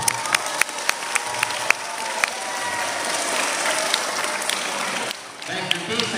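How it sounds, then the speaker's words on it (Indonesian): Applause for a student at a school Isra Mi'raj celebration, with sustained clapping from an audience and a few sharper claps standing out, steady for several seconds before briefly thinning. "Ya, tepuk tangan buat dia."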